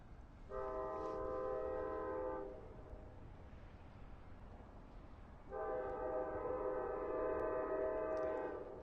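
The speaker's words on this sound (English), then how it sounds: "there's the bell and the gates going down now for William Floyd Parkway crossing" A Long Island Rail Road train horn sounds two long, steady blasts at the William Floyd Parkway crossing near Mastic-Shirley station, separated by a few seconds of quiet rumble, heard from a moderate distance, wind carrying the sound.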